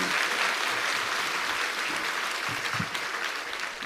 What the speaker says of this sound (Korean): 크게 박수 한번 다시 해주세요.